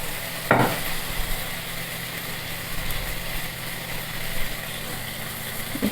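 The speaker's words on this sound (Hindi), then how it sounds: "और इसमें 2 से 3 टमाटर डालेंगे बारीक कटे हुए।" Chopped tomatoes and salt drop into kakora cooking in a pan, giving a soft sizzle and stirring with a couple of brief clatters over a steady low background hum.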